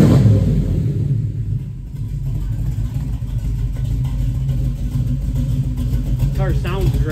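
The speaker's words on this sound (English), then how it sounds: "Car sounds great." A 1970 Chevrolet Nova with a 383 stroker V8 and racing fuel idles with a deep, steady rumble close by, holding a constant low drone for several seconds while a voice briefly speaks over it.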